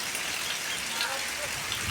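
Steady rain falls in a dense, even hiss with a constant spattering texture and no pauses or changes.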